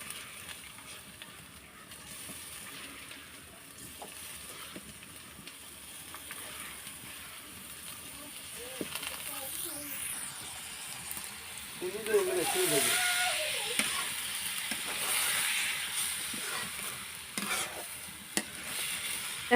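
Broken rice grains are tipped into a pan of fried chili and onion in a village kitchen, raising a steady close sizzle with stirring scrapes that swells louder partway through and continues under the cooking noise.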